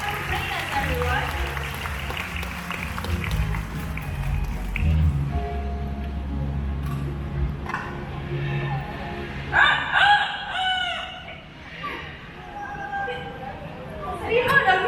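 A rooster crows several times at a live bird show at Bird Paradise, the calls coming in the later part amid crowd noise, applause and a speaker talking over a PA.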